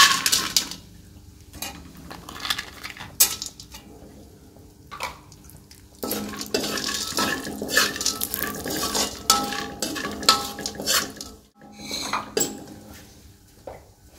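Dry fruits and dates being dropped into a pan for a wheat flour nishasta, with clattering, rattling and metallic scraping of utensils at close range, someone speaking at times.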